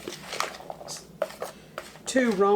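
Chopped celery, cucumber, seeded jalapeno and Roma tomatoes are tossed together for a Mexican shrimp cocktail, giving soft scattered clinks and scrapes of utensils against a bowl; a voice briefly speaks near the end.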